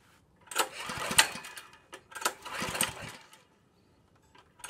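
A Honda GX200 small engine, doused with starter fluid, cranks in several separate bursts of rough turning without catching, each pull brief and close, with quiet gaps between attempts.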